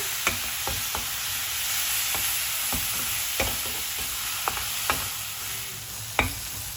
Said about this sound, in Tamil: நல்லா இதை வதங்கினதுக்கப்புறம் நீங்கள் இறக்குறதுக்கு ஒரு 2 நிமிஷத்துக்கு முன்னாடி காஞ்ச மிளகாவை போட்டு அதையும் வந்து நல்லா வதக்கிக்கோங்க.